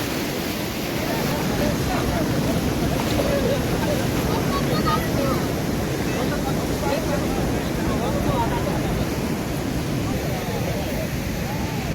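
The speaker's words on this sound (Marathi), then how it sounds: "अजून समुद्राचा पाण्याची शांतता नाही पाणी भरपूर उसळलेला" Rough, churning sea surf surges onto the Sindhudurg Konkan shore during a Ganesh immersion, a steady loud roar of crashing water with wind buffeting throughout.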